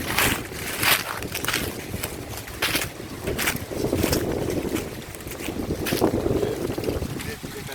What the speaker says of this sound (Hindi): और मई के महीने में देख रहे हैं आप कितनी तेज हवा चल रही है, आज है।